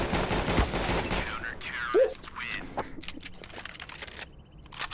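Shotgun fire in the video game Counter-Strike: Global Offensive, heard as a loud burst of gunshots at the start and a few sharp shots later, with players talking over the game.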